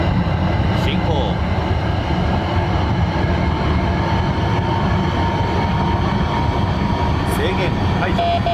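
A 4000-series train runs in the Train Crew game, giving a continuous rumble of wheels and motor. Faint tonal whines and occasional clicks run under a steady, even loudness throughout.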